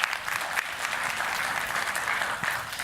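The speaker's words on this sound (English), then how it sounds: "Round of applause for Alex." An audience at a speaking event applauding a person named Alex, dense steady clapping from many hands that holds for the whole stretch and fades slightly at the end.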